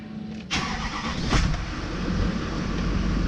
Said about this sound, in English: Starting the truck up.